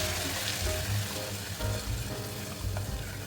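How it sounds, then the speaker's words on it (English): Hot oil sizzles and crackles loudly as it hits food in a bowl or pan, a busy frying hiss with some low clunks, close up. "Look at that sizzle."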